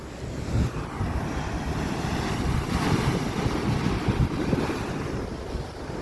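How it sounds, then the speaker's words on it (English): Strong ocean waves surge against a Hawaiian basalt shore, a continuous loud roar of surf with rolling swells, mixed with heavy wind buffeting the microphone. "Now these are strong waves."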